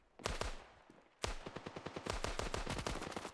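Pistol gunfire in the mobile shooter game Standoff 2: a short opening burst, a brief pause, then a rapid volley of sharp, evenly spaced shots close up, with no talk.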